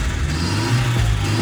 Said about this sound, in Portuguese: vou mostrar um ronquinho aqui por dentro, como é que fica